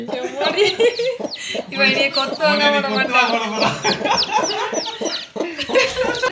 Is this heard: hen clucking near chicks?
yes